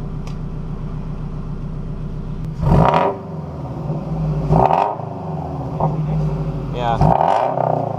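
A Subaru FRS with a Nameless Performance frontpipe idles with a steady rumble, then revs in three quick bursts that rise and fall back to idle. The car is heard up close, and a voice speaks briefly.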